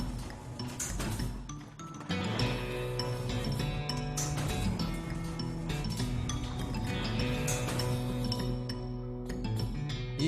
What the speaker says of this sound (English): The elevator mechanism is all rusty.